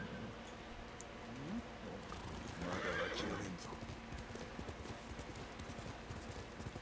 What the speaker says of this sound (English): Alright, time to call my horse